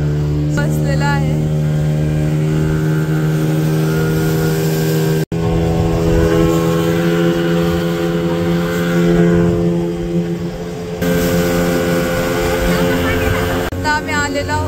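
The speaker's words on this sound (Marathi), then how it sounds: "आम्ही बोटिंग मध्ये बसलेलो आहोत." A motorboat cruises across Pawna Lake with a loud, steady engine drone and rushing water, broken once by a brief dropout, while people talk faintly over it.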